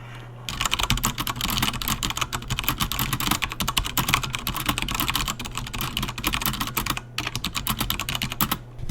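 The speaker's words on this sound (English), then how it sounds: "like a typing test, right?" A custom-built mechanical keyboard clatters through a typing test, with rapid, continuous keystrokes close to the mic and a brief pause near the end; no talking.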